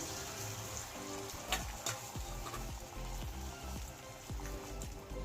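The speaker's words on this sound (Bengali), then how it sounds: "তাওয়াতে একটু তেল দিয়ে দিলাম তারপর ডিমটা ঢেলে দিলাম" An egg fries in oil on a hot griddle pan, giving a steady soft crackle with scattered sharper pops and clicks, moderately quiet, with no talking.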